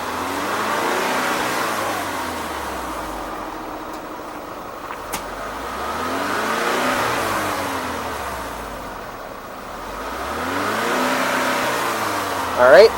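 An Audi car engine revs up to about 3,500 RPM two or three times during valve cleaning work, each rise and fall of engine pitch clearly repeated in a slow, even cycle, with a brief click near the end.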